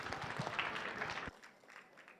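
Panel-discussion audience applauding a student, a dense burst of clapping for just over a second that cuts off sharply into a quiet room.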